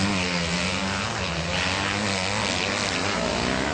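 A Kawasaki KX250F dirt bike engine held at high, steady revs, a loud continuous buzzing drone close by, with no talk.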